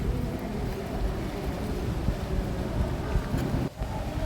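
Steady broadband wind rushing across an open outdoor place on a cool day, continuous and fairly loud with a brief dip near the end, no voices.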